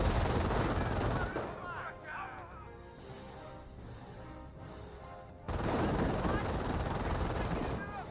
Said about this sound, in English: Rifleman squad does get suppressed there by the MG42